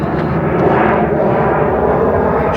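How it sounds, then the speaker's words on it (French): An airplane passes overhead near Elche, Spain, making a steady, loud, broad engine roar that fills the whole stretch without talking. "encore un avion"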